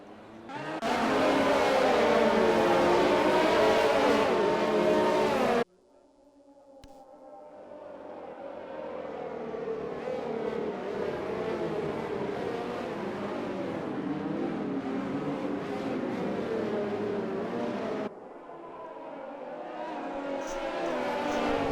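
F1 race cars in an Xbox racing game circuit at the USA Grand Prix under a safety car, engines whining loudly and continuously with a sharp cut partway and a steady rising drone after, with commentary talk faintly over it.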